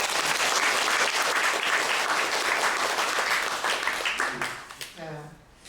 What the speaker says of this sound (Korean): 우리 박수 한번 더 해주세요.